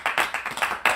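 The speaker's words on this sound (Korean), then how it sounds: "우리 고생한 우리 아미 여러분들과 우리를 위해 박수 한번 칠까요" Several sharp hand claps, close and distinct, in an uneven rhythm over about a second, from a group celebrating an award win.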